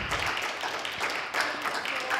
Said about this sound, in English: One more round of applause for all your time.